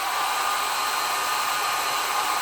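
A hair dryer blowing heat over paper to smooth out wrinkles, a constant, even whooshing hiss heard up close and alone with no variation.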